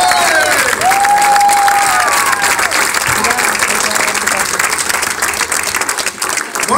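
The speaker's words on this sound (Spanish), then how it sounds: "A ver, aplaudan un poco, levanten las manos." Audience at a rock and roll gig applauding loudly and steadily, with scattered cheers and whistles from a busy crowd near the stage; voices mix into the noise throughout.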